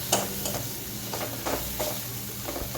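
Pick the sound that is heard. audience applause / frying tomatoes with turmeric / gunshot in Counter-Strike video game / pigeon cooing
frying tomatoes with turmeric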